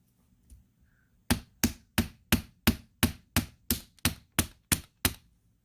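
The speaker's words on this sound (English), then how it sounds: "Hammer both sides of each spiral with the rawhide mallet on the bench block to flatten" Rawhide mallet hammering a metal wire spiral flat on a steel bench block: about a dozen sharp, evenly spaced blows in a steady rhythm, close and clear, after a short quiet pause.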